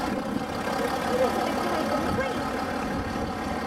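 A 1956 Land Rover Series 1 in sand colour, kept in fine condition, drives past at a Land Rover show, its engine a steady low rumble, moderately close and continuous.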